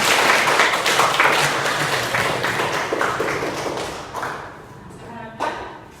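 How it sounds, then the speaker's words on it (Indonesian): Students in a classroom clap their hands together in a dense burst of applause that fades toward the end, with a few scattered claps trailing off. "Tepuk tangan."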